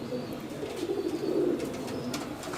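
Madrasi pigeons giving a soft rolling coo, low and continuous, swelling in the middle, with faint rustle in the background and no talk.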